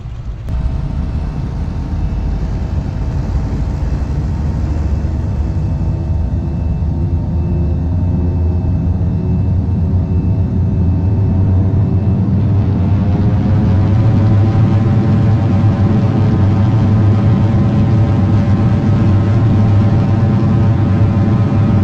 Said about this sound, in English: we're now in the cockpit, starting our takeoff run.